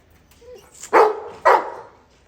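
Pet dogs Leo and Sheru give two loud, close barks about half a second apart, after a faint whine at the start. There is no speech.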